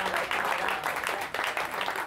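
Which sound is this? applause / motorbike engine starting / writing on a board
applause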